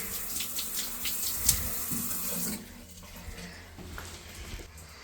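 Hot water runs from a campground shower at a state park, a loud hissing spray that cuts to a softer, steadier trickle partway through.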